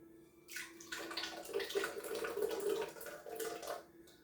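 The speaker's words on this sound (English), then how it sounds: "Okay, so I'm going to pour" Thick pasta sauce pours steadily into a casserole dish for a few seconds, a continuous wet glugging flow with soft splashing, fairly close and without speech.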